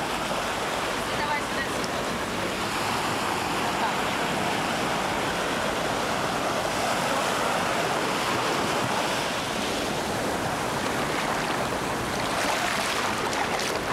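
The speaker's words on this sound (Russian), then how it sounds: "Теперь Вера, она идет на солнышко и бежит по волнам." Steady surf rushes and washes onto a beach at Mahé, Seychelles, a constant broadband roar with some wind noise on the microphone.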